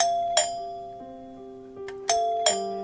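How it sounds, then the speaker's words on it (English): A doorbell rings with several bright chime tones in a two-note ding-dong pattern, clear and fairly close, with sustained ringing between strikes. "we hear a doorbell ring"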